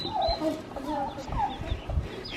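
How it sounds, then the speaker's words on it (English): Chickens cluck in short, close bursts while being fed, with brief bits of their chatter scattered through and faint background voices. "they're helping feed the chickens"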